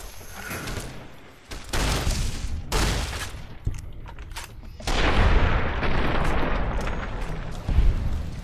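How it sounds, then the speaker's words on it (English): Caravan shotgun blasts in a video game, several loud booming shots in uneven succession with heavy rumbling tails, some overlapping into a sustained roar of gunfire. "This caravan shotgun is like awesome to start with"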